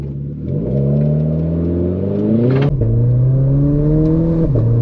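A Renault 4 RS Trophy pulls away hard from a standstill, its engine revving up loudly through rising pitch, with a brief clatter at a gear change before the note climbs again, close and strong.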